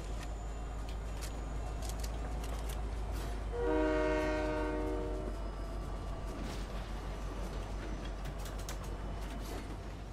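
A video game train runs steadily with a rumbling, clattering rail noise, and a brief horn blast sounds partway through over the continuous running.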